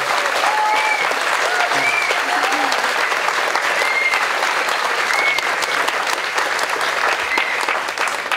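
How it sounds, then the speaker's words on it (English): A crowd at a Pride event in Totnes, Devon, applauding in a steady, loud, continuous wash of clapping, with faint whistles or cheers scattered through. "a round of applause to the Totnes Pride Action Group"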